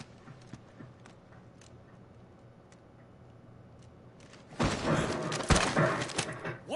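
Horse hooves in a Final Fantasy XVI game scene, starting after a quiet stretch with loud, busy clopping and thuds that crowd the last two seconds, close and continuous.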